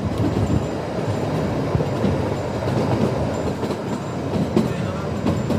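The Shimla toy train runs on its rails, a steady loud rumble with rhythmic clatter of wheels heard from aboard, continuous throughout with no talk.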